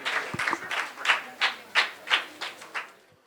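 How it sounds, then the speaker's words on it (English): Audience at a career seminar for design, fine and performing arts, and architecture gives a round of applause, a modest spread of claps with irregular peaks, fairly close and without talk. "A big round of applause."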